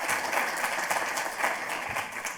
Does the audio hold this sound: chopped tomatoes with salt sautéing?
no